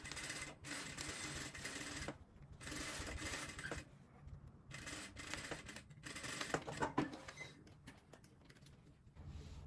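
A sewing machine stitches the crotch seam of trousers in steady, close mechanical runs, whirring and clattering with short pauses between bursts.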